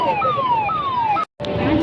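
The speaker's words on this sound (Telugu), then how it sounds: "అంబులెన్స్ దారి ఇవ్వాలండి" An ambulance siren wails in repeated falling sweeps during an anti-drug youth awareness rally in Husnabad, loud and steady over crowd noise, then cuts out briefly before resuming.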